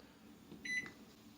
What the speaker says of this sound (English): Microwave 1 potato.